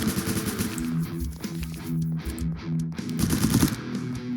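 Gunfire in the Roblox zombie survival game Last Run, with sustained automatic shooting as a dense, steady rattle of shots and a louder stretch near the end.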